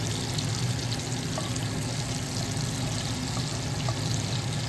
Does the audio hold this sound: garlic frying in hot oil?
yes